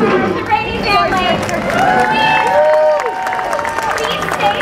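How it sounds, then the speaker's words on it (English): An audience applauds the winning family on stage at a Padawan Mind Challenge family-edition game show. Steady clapping is mixed with cheers and crowd chatter, loud and sustained throughout. "please give one more round of applause for our winners, the Rainey family."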